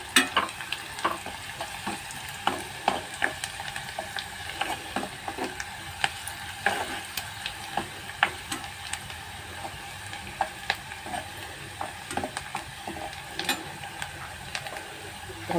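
Onion and curry leaves fry in a pan with a steady, crackling sizzle, and frequent sharp pops and stirring clicks come through close up. No voices.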